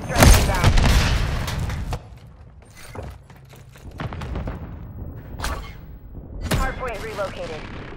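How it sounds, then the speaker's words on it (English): Airstrike explosions in Modern Warfare 3 arrive as heavy booming blasts, loudest at the start, followed by more scattered rumbling impacts and crackling bursts under game sounds. "Airstrike inbound."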